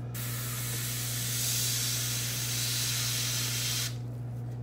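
Spray gun hissing steadily as black paint is sprayed onto a shad fishing lure, a continuous close airy spray lasting about four seconds over a low motor hum, then cutting off.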